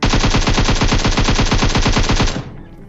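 Automatic gunfire from a military-base battle royale video game rattles in a rapid, steady burst of evenly spaced shots for over two seconds, loud and close, then cuts off abruptly leaving faint ambience; no speech.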